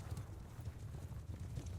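Horse hooves clip-clop steadily in the Mount & Blade Bannerlord video game during a Khuzait Khanate cavalry battle, a continuous dense patter of several mounts at moderate loudness with no talk.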